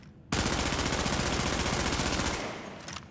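The Bullfrog gun in a video game fires one sustained, rapid automatic burst lasting about two seconds, loud and close, then trails off into fading echoes.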